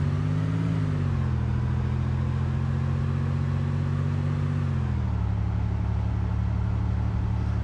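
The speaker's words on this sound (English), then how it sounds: "I moved back to my little green car, carried on my adventure up the coast towards Berezino." A small green car drives along a coastal road in the video game DayZ, its engine giving a steady droning hum with a slight pitch drop midway and a continuous low rumble, no talking.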